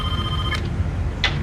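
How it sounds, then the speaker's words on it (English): A telephone rings indoors in a crime documentary about a homicide detective, two short rings about half a second apart over a low steady background, with no talking. "to be interrupted in that process by the phone ringing"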